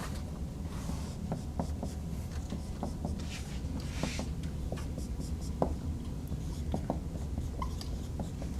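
Chalk or marker writing on a board in a university organic chemistry lecture on pericyclic reactions: steady scratchy strokes and taps continue throughout over a low room hum, with no talking.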